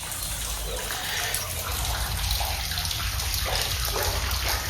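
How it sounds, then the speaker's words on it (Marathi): Water from a natural spring pouring down into a deep well, a continuous splashing gush heard steadily throughout with no voices. "पाण्याचा आवाज पण एवढा भारी येतो ना"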